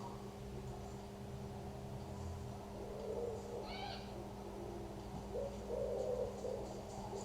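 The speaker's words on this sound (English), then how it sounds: "Wood pigeons they are." Wood pigeons cooing outdoors, a soft, low repeated call drifting in from a distance under a steady background hum, with a few faint higher bird chirps around it.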